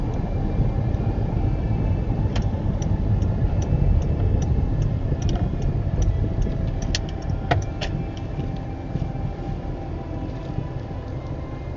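A Sligo-bound Irish Rail 22000 series diesel train pulls out of Carrick on Shannon station with a steady, continuous engine rumble and faint ticking clicks above it.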